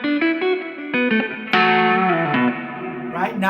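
Electric guitar notes and chords ring through a reverb effect pedal, a few plucked phrases with a bright strummed chord midway, each sustaining into a long washy tail, close and clear with no talking.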